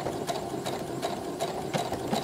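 A sewing machine stitches appliqué with invisible thread, giving a steady close mechanical whir with rhythmic stitch pulses and no talk.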